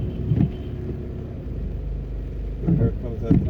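A taxi car approaching along a flooded road in Jamaica, a low engine rumble with splashing rising toward the end, while people talk over it.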